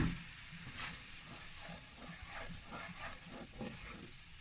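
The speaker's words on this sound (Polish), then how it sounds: "Teraz podlewamy patelnię wodą." Water poured into a hot frying pan used for peppers hisses and sizzles steadily, a close, broadband crackle with small bursts of bubbling throughout and no voices.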